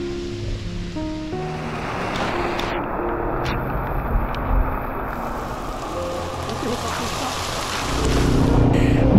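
Steady rain falling during a motorbike ride on wet roads in northern Thailand, a continuous hiss with engine hum underneath that builds in the final second.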